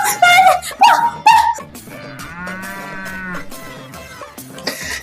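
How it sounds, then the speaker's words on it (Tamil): A cow moos several times, loud and close, with long drawn-out calls at the start, a steadier low call in the middle, and a brief final call. "ஏய் மாடே எங்க வீட்டுக்கு வந்து எங்களுக்கு பால் தரியா"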